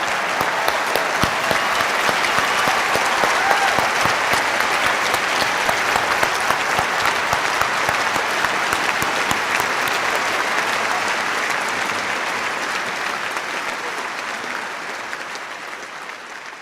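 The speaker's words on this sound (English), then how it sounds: "Richard, come on back out for applause." A large audience at a talk featuring Richard Dawkins and Lawrence Krauss gives sustained, loud applause, a thick wash of clapping that holds steady before slowly tapering off near the end.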